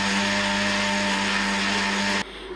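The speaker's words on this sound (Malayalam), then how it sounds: "ഇനി ഇതൊന്ന് മിക്സിയിലിട്ട് അടിച്ചെടുക്കാം." A mixer grinder whirs loud and steady while blending banana with chilled milk, holding an even motor drone for about two seconds before cutting off abruptly.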